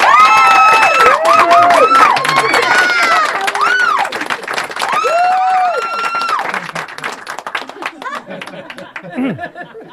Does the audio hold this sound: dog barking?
no